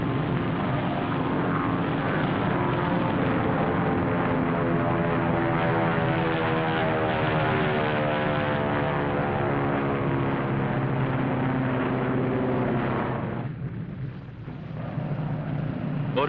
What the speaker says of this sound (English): airplanes flying over the target fleet after the blast.